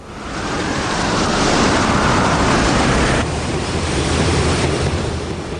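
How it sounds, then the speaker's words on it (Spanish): Hurricane winds and heavy ocean surf make a loud, continuous roar with broadband wind rush and crashing waves that swell and hold steady, with no voices. "Los huracanes son las tormentas más grandes y poderosas de la Tierra. Pueden azotar al mar, produciendo marejadas de hasta 10 metros."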